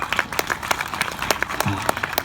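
An audience at a comedy poetry gathering held for Rajasthan Police Day claps in scattered, uneven bursts, with sharp individual claps over a low murmur and a brief voice underneath.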